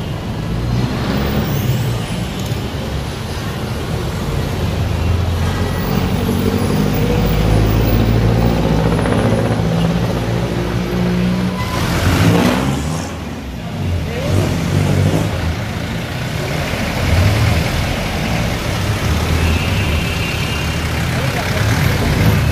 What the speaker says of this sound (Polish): Ciężarówki to są tak zwane jeepneje.